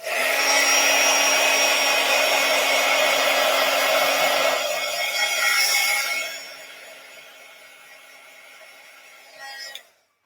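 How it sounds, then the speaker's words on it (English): A handheld heat tool blows hot air to dry stamped ink on a 5x7 greeting card, a loud steady whoosh that fades after several seconds before a brief final burst as it is switched off. "I'm just going to take my heat tool and just make sure this ink is dry."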